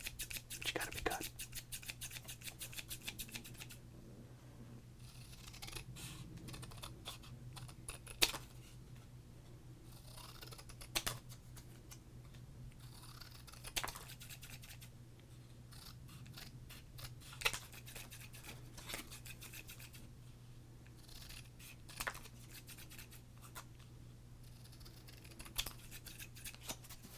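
Scissors cutting through 1995 Topps and Score sports cards, soft close snips and paper crunches recurring every few seconds in a quiet ASMR setting, with faint whispering between cuts.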